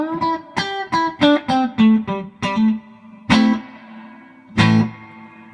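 An electric Fender Stratocaster plays through an MXR M300 digital reverb pedal into a Fender Princeton amp with the decay and blend turned down. A run of picked single notes is followed by two loud strummed chords left ringing with a reverb tail.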